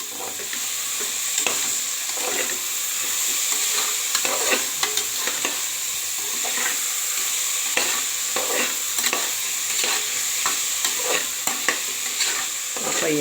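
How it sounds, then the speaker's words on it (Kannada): Mixed vegetables such as potato and cauliflower stir-fry in a little oil for vegetable pulao, a constant close sizzle broken by repeated scraping strokes of a spoon against the pan. "ಸ್ವಲ್ಪ ಎಣ್ಣೆಯಲ್ಲಿ 1 ರಿಂದ 2 ನಿಮಿಷ ಬಾಡಿಸ್ಕೊಳ್ಳಿ ಇದನ್ನು"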